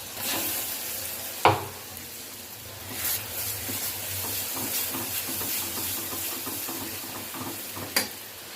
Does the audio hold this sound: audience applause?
no